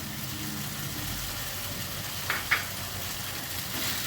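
Grated paneer and pointed gourd are stirred together in a hot pan, making a steady low sizzle broken by two quick utensil clicks.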